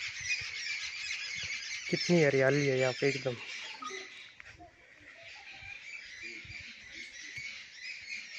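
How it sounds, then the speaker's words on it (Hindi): Birds chirp and call around a village temple in a green, quiet rural setting, a steady high twittering that runs under a man's speech from start to finish. "बहुत अच्छा माहौल है यहाँ का, बिल्कुल शांति, सिर्फ पक्षियों की आवाज"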